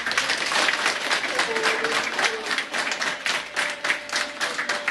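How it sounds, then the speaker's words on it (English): Doctors and nurses applaud as a patient leaves hospital after six days of care, a steady, dense round of clapping close by that holds for several seconds with faint voices mixed in. "it was the applause from the doctors and nurses that tended to him for 6 days"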